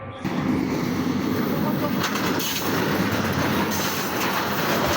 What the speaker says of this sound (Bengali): গাটিনা ব্রিজের ট্রেন চলে আসছে তো হর্ন দিতেছে